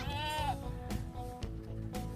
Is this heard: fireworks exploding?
no